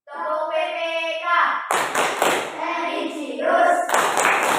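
A school class does the rhythmic PPK clap, with bursts of hand claps in a set pattern mixed with group chanting voices.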